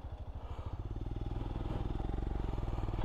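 A Royal Enfield Scram motorcycle rides along Welsh roads, its single-cylinder engine thumping in a steady, even pulse that builds slightly as it accelerates, close and loud throughout.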